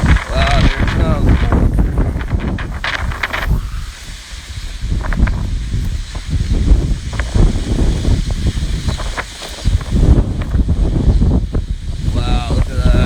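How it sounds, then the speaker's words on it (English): Violent hurricane-force wind from Hurricane Ian roars and buffets the microphone at 4 a.m. in Pasco County, Florida, with loud continuous gusting and surging rushes throughout, while a person talks excitedly over it. "Wind whipping everywhere. Gotta be 100 miles an hour. Look at that wind blowing."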